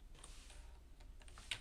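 Soft, quick key taps on a computer keyboard, faint and close, with no talking.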